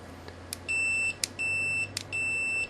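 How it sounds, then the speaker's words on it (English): UNI-T UT139C multimeter continuity test, three sustained high electronic beeps about half a second each with short gaps and faint probe clicks between, close and clear. "next I thought we'd take a look at the continuity feature on the UNI-T"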